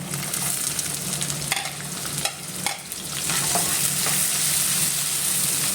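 Garlic and onion sautéing in hot oil in a pan for ginisang monggo: a loud, close, continuous sizzle with a couple of brief stirring scrapes and no talking.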